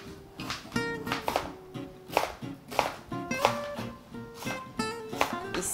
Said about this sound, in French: On va couper le giromon en gros dés.